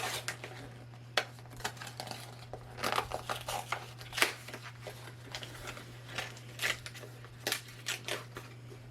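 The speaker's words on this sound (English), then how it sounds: "I'm gonna have to rip it." Cardboard and plastic advent calendar packaging being torn open by hand, a string of crinkling rips and crackles in uneven bursts, close and fairly loud, with a steady low hum underneath.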